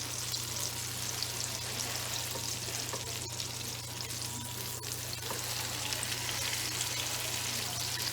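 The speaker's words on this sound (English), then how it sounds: "you're going to let it fry for another few minutes just to brown on the other side" An eggplant omelette (tortang talong), flipped and browning on its second side, fries in a pan with a steady, continuous hiss of sizzling oil, close and even throughout, with no voices.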